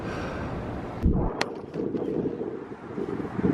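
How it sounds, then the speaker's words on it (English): Strong wind in San Francisco buffets the microphone with a constant roaring rush, gusting harder at moments, with faint clicks and knocks. "It's really windy."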